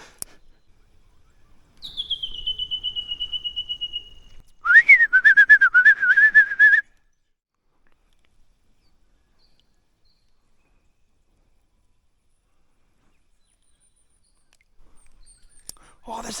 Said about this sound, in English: Oh, there's the sea eagle.